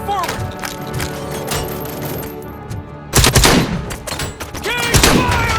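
Gunfire in the video game Robocop: Rogue City, with loud bursts of automatic fire and heavy impacts in short clusters, mixed with shouted voices and battle noise.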